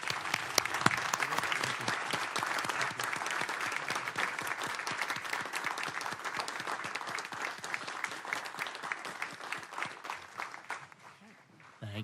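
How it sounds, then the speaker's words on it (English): Applause at a city council meeting, a steady patter of many hands from a modest room of attendees, fairly even for most of its length before thinning and fading out near the end. "give him a round of applause"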